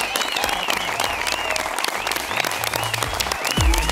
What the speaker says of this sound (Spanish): se merece un aplauso